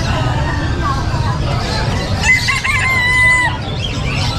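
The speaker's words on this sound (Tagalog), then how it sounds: "Marami ka ngayon mga manok" Chickens and roosters at an outdoor pet market, including Chabo and Cornish birds, with a rooster crowing loudly near mid-clip amid clucking and a babble of nearby voices.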